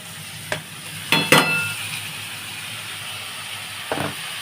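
Boiled mushrooms fry gently in a pan with a soft, low sizzle. A few sharp clanks of a spoon stirring against the pan cut through it, and no voices are heard.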